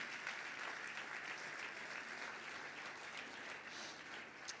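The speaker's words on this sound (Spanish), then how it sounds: "Fuerte ese aplauso de alabanza al Señor." Church congregation claps in praise to the Lord at a service, a steady, continuous roll of many hands, somewhat distant and soft, sustained evenly throughout without talk.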